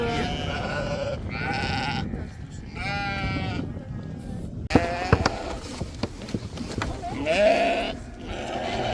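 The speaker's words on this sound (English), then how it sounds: "This is the outside group that they have not lambed yet. They're pregnant sheep." Several pregnant sheep bleat in a loose, overlapping chorus nearby on a farm, with some shuffling and knocking sounds from the animals in between.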